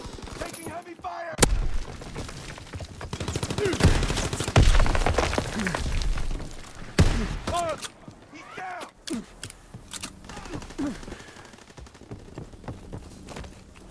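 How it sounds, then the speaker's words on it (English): Call of Duty: WWII battle gunfire fills the scene: dense volleys of rifle and machine-gun shots with heavy booming impacts, loudest early and through the middle, thinning toward the end, with brief shouted voices amid the fire. "Taking heavy fire!"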